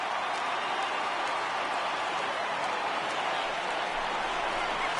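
A baseball stadium crowd of over 39,000 roars in MLB 18 The Show, the Pirates playing at Atlanta. The cheering is a steady, even wash of noise throughout.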